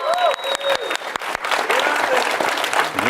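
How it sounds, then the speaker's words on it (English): An audience at a Roblox presentation cheering and applauding, a dense and loud wash of clapping with a few whoops rising above it, steady for the whole stretch. "So if all of you can cheer for them for a second,"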